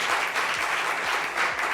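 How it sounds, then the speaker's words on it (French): A studio audience applauds a woman on stage during a French talk show, with brisk, full clapping from a crowd heard close and loud. A low repeating musical pulse runs underneath the applause. "Applaudissements pour cette charmante dame"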